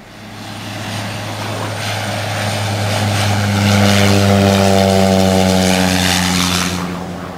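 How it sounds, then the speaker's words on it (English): A propeller airplane coming in to land near Dunk Island, Australia, passes overhead with a loud, steady engine drone that swells and slowly shifts in pitch over several seconds. "that plane looks like it's coming in"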